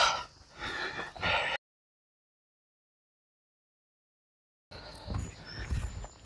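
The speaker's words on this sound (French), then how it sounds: "comprenez que je me suis tapé une petite côte, et pourquoi je suis essoufflé" Heavy, breathy gasps and snorts from a walker out of breath after a steep climb on a coastal hiking path, loud and close, in two bursts split by a stretch of silence.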